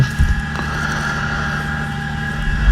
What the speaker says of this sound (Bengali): এর মাঝে আমাদের ট্রলার যাত্রাটি এখনই শুরু হয়ে গেছে